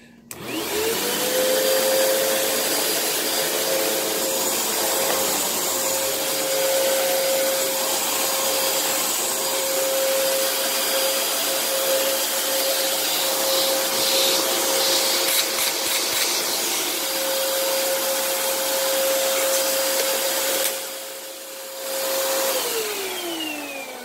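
A used vacuum cleaner under test, running loud and close with a steady motor whine for about twenty seconds, then dipping briefly and winding down near the end.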